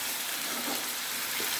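Ginger-garlic paste sizzles in a hot pan with a steady, dense crackling hiss, close and unbroken, lightly fried while cooking a prawn dish with coconut paste.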